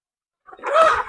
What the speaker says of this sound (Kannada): ಇಲ್ಲಿ ಕೋಳಿ ಕೂತಿದೆ